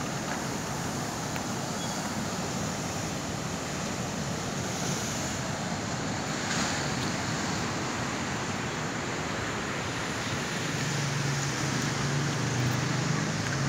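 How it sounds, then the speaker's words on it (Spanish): Atlantic Ocean waves breaking along a seafront promenade at dawn, a steady broadband wash of surf with wind noise, continuous and fairly loud throughout with no voices. "frente a las aguas, a las olas"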